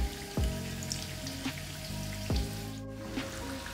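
Zucchini pakora fry in hot oil, giving a bubbling, crackling sizzle close up, with a few louder clunks of ladles against the pan as the fritters are flipped.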